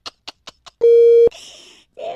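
A telephone line after a hang-up during a radio prank call: a few short, evenly spaced beeps, then a loud steady tone that cuts off into line hiss and a brief voice.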